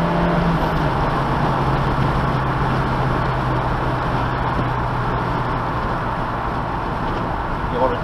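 Car accelerating hard on a race track during a driving session, a steady loud engine drone with a low hum throughout, while an instructor talks over it.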